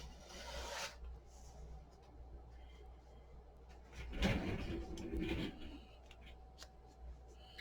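Scissors cut paper for a mini album craft project, a few soft rasping snips from a corner toward a marked line, quiet and close, with short pauses between strokes.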